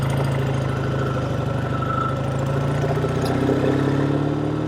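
Engine of a 1948 Triumph T100 Tiger motorcycle, a 500cc single-cylinder-era British twin, running steadily up close with a loud, continuous throbbing exhaust note and slight rise in pitch near the end.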